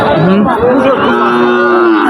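Cattle, including Sahiwal, Gir and Brahman breeds and bulls, moo loudly and repeatedly up close at a rain-soaked cattle market, long drawn-out lowing calls overlapping one another, with a faint murmur of people in the background.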